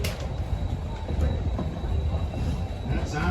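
Alaska Railroad 152 train rounding a curve, a continuous loud rumble of wheels and cars with a faint high squeal running through it, heard up close from aboard.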